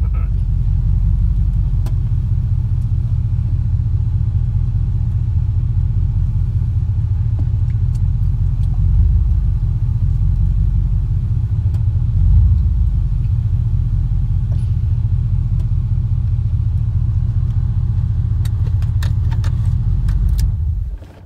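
An idling vehicle engine rumbles low and steady at close range while it backs into a driveway, with slight swells in the drone, faint clinks and jangles over the top, and the sound stopping at the very end.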